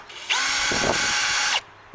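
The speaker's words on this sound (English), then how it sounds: "the first step is to drill our holes" Power drill boring holes into the deck of an Ascend 12T kayak, one steady high-pitched whine lasting just over a second, loud and close with no talking.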